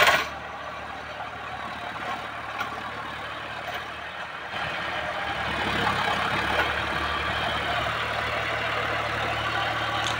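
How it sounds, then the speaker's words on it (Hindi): A John Deere tractor drives a 6-foot Shaktimaan rotavator through a field, giving a steady loud engine drone with broadband churning noise that grows slightly heavier partway through, with no talking. "हमारे जॉन डियर ट्रैक्टर के पीछे लगा हुआ है 6 फुट का शक्तिमान का रोटावेटर"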